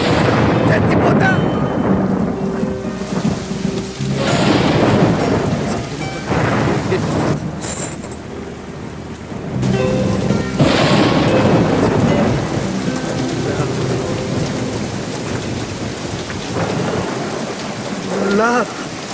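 Rain pours steadily with rolling thunder in a dramatic film scene, heavy downpour hissing throughout and deep rumbles swelling and fading at intervals, loud and close with no clear talk over it.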